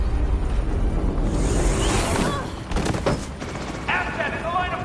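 Video game gunfire in a chaotic scene: a rapid burst of shots and impacts blended into a dense, loud din with overlapping game sounds and a faint voice, easing slightly toward the end.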